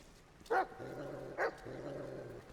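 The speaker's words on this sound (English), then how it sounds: "That's another dog." Two sharp dog barks about a second apart in Metal Gear Solid Delta: Snake Eater, moderately loud over a low steady in-game drone, no talking.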